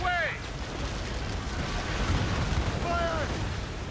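Naval cannon and mortar fire from warships in the video game Assassin's Creed Rogue, a dense, unbroken roar of booming and rumbling with faint whistling tones rising over it, loud and continuous with no talk.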